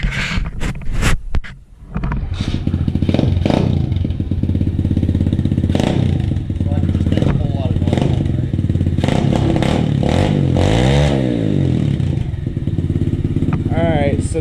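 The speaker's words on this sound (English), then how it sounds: "I'm gonna do a sound test real quick and show you what this sounded like beforehand." A pit bike on its original exhaust revs close and loud through repeated throttle blips and a sustained high-rev stretch, with clattering and some wind buffeting, and people talking in between.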